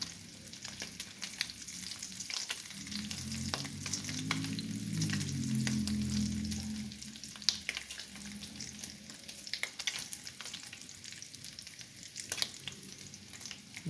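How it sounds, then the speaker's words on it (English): Bacon sizzles and crackles steadily in a frying pan at breakfast, a constant hiss with scattered sharp pops, fairly quiet and with a brief low rumble partway through, and no voices. "Let that bacon get a little bit more crispy."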